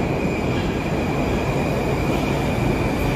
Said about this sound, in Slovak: Takže akurát mi prichádza metro.